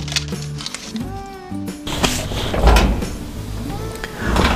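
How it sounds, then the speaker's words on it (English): An RV oven door is handled as a pan of Danish apple bars goes in, with a knock and clatter, then a rougher rattling slide and bump, close and moderately loud, with a brief voice partway through. "So now this is going to go into the oven."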